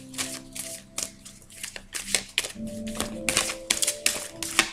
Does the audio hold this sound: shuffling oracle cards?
yes